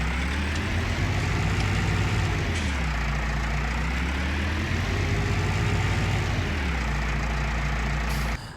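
Farming vehicle on wide base tyres rolling over harvested crop in Farming Simulator 19: a steady, loud engine drone with slowly rising and falling pitch throughout, no voices.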